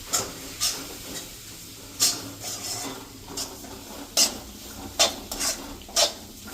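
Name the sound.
stirring and mixing ingredients in a pan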